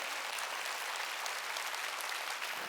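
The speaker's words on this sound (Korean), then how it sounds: "깨달았으면 박수 치라고요." A church congregation at a Wednesday worship service breaks into dense, sustained applause that fills the room at a steady level with no talking.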